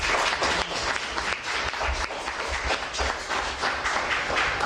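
Loud, sustained applause from an audience at a celebratory gathering, many hands clapping close and continuous, with a few heavier thumps underneath and no speech over it.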